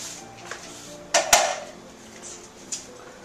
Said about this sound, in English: Just throwing those right in the pan with their whole tomatoes.